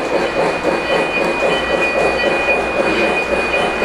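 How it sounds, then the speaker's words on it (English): O-gauge model freight and passenger trains run on a layout track, producing a continuous close rolling rumble with light rhythmic clicking and a faint high whine from the motors, with no talking. "Our passenger train is running. Our freight train is running."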